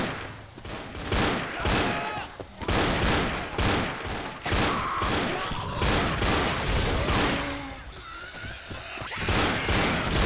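Dual pistols firing in Left 4 Dead, rapid repeated gunshots in dense bursts across a chaotic zombie fight, loud and close, with scattered game noises.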